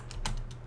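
Keystrokes on a computer keyboard as a server command is typed, a few quick separate clicks, close and fairly crisp over a low steady hum, no voice.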